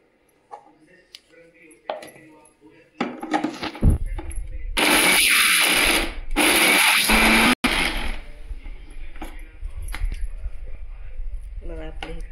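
A mixer grinder grinds coconut with garlic, ginger and coriander into a fine paste, a loud whirring roar in two long bursts with a brief stop between, set among kitchen clatter and handling noises.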